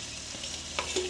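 A short, soft scrape of stirring in a pan of frying vegetarian vegetables (eggplant, spinach and potato), with a low sizzle and a couple of faint utensil touches.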